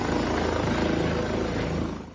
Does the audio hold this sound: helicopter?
yes